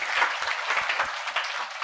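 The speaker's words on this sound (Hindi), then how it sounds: "एक बार जोरदार तालियां" An audience in a lecture hall claps for a student named Bhumika. Dense, steady applause runs the whole time, fairly loud and close, with no talking.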